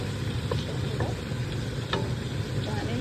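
Lamb and okra stir-fried with paprika in a pan, a steady close sizzle with occasional scraping stirs, with no talk.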